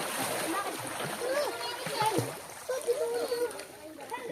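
Children bathing outdoors in clean water in the provinces splash and splatter steadily, with the splashes mixed under children's chatter and voices throughout.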